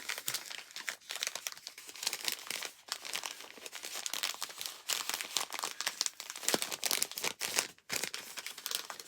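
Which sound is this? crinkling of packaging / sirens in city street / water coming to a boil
crinkling of packaging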